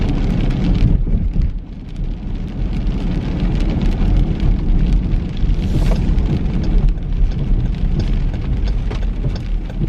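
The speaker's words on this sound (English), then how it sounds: "we're getting like rain." Rain pours outside in a loud, steady wash of drumming drops on surfaces, continuous throughout with slight swells and no talking.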